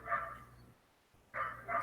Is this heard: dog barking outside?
yes